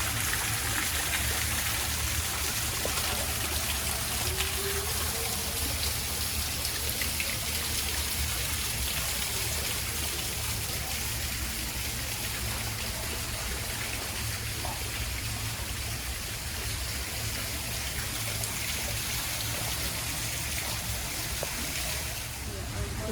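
A garden water feature at Daniel Stowe Botanical Garden in Belmont, North Carolina trickles and splashes continuously nearby, a steady bubbling flow that fills the whole stretch under a broad outdoor hiss.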